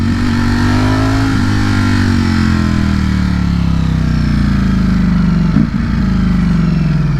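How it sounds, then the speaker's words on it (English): Ducati Streetfighter V4 motorcycle engine and exhaust heard from the rider's position, a loud, steady roar with the pitch gradually falling through downshifts with rev matching and a short blip near the end. "I love the downshifting, and I love the little upshifts with the rev matching."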